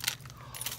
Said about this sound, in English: I had to make sure I had my keys.